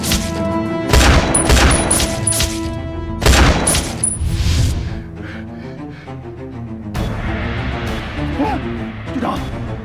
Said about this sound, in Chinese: 你就先开枪打了他。